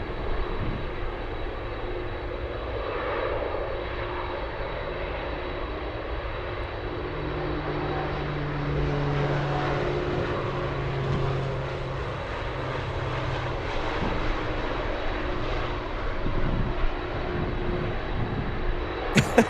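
A landing airplane approaches in a strong, gusty crosswind at Anchorage airport, its engine roar a steady, fairly distant drone that holds for the whole stretch and swells slightly toward the end, with no one talking.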